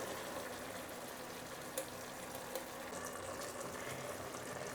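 Water poured into a simmering traditional Kongu-style South Indian mutton gravy gives a steady, close sizzling rush with a bubbling hiss and no voices.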